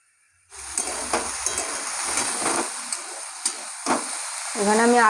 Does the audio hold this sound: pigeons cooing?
no